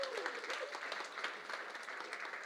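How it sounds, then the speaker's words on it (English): A studio audience claps for guests on a Father's Day talk show, a brief, even burst of applause at moderate volume, with a voice faintly audible at the start. "Yeah, let's give them a clap."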